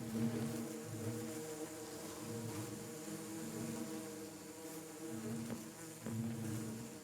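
Bees buzzing in the video game Minecraft, a continuous droning hum with shifting pitch that rises and falls as the insects move around, fairly quiet and alone.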